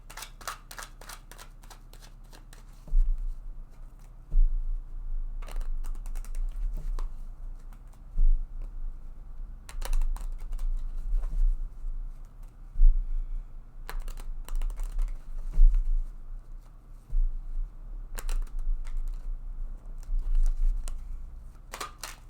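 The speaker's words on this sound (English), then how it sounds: "I'm going to go ahead now and shuffle this deck several times." A deck of tarot cards is shuffled several times up close, giving bursts of quick, crisp riffling and snapping clicks between quieter handling, with no talking.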